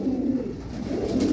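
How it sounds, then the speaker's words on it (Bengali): Green deep-eye Kaladana pigeons coo in low, throaty rolls, close and steady, with no voices. "এ দেখুন পায়রা ফুল মস্তিতে, গ্রিন পায়রা ডিপ আই কালাদানা"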